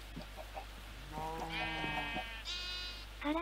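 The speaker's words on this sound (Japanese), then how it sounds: "色とりどりの羊が。" Several sheep bleat in the Minecraft video game at a farm pen holding multicoloured sheep, with a couple of wavering, tonal bleats that overlap and sound close, plus a fainter bleat near the end and no talking.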